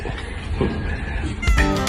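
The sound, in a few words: cats meowing before feeding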